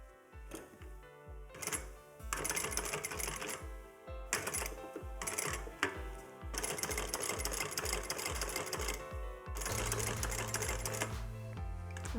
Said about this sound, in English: Go ahead and do a little back stitch.